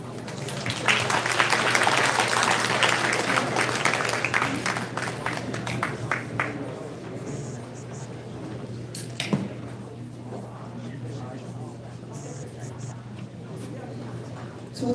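Audience applause in a hall at a Taiwanese community New Year gala, a dense burst of clapping that builds strongly and then thins into scattered claps while a voice starts talking over it.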